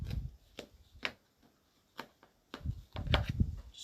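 A knife cuts a homemade Greek spanakopita vegetable pie into pieces, making a series of sharp, irregular strikes against the board with short quiet gaps, clustering toward the end, and no talking.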